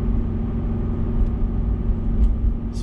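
Car engine rumbling steadily from inside the cabin while driving a lap of Mount Panorama Circuit at Bathurst, New South Wales, a low continuous drone with no talking.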